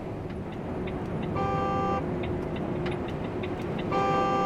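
A truck's blind-spot car detector sounds an electronic warning in two bursts of rapid, evenly spaced beeps, each lasting about half a second, over a steady road and engine rumble inside the cab.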